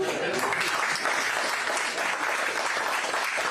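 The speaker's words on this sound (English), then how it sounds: "How about a round of applause for our firefighters?" An audience at a town hall voter Q&A applauds firefighters, dense sustained clapping throughout with crowd noise, fairly loud and continuous.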